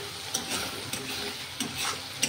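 Spices sautéed in a pan for a fish curry, a soft continuous sizzle broken by several sharp scrapes of a spoon stirring against the pan, close by and with no talking.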